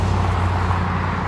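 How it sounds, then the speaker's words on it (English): Car traffic on a busy city street, a steady, continuous rumble of passing vehicles with a low engine drone and no speech. "So you'll probably hear a lot of car noise for a little while now."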